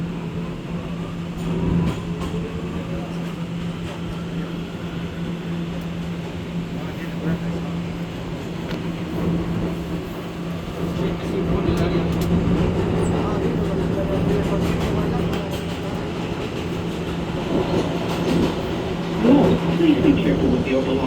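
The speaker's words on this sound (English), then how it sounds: "This is an open-bound G train." An R211A G train on the New York subway rumbles steadily between stations, a constant low rolling drone with rising wheel and track noise toward the end, voices faintly present beneath.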